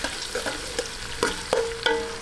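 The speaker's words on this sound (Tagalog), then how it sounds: "Atin lang pong gisa-gisahin hanggang mag-light brown. Ayan, lagay natin ang sibuyas." Sliced onions sautéing in a pan for a milkfish-sardine-in-tomato-sauce dish, with a steady close sizzle and a few sharp scrapes of a spoon stirring at intervals.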